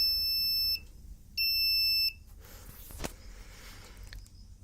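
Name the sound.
buzzer beeping on IoT project switch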